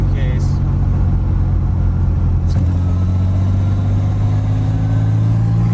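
A 1986 Pontiac Fiero with a swapped supercharged 3800 engine pulls in fourth gear, giving a loud, steady low engine drone heard from inside the car, with a person speaking over it.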